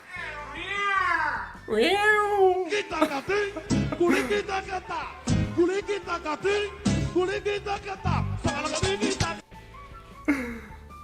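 Repeated loud cat meows, drawn-out and wailing, with a person talking over and between them throughout.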